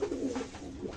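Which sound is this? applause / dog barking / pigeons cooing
pigeons cooing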